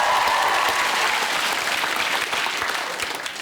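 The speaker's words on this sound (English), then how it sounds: "That's worth a round of applause" A studio audience at a comedy show breaks into loud, sustained applause for a young breakdancing champion, a dense, steady wash of clapping that fades slightly toward the end.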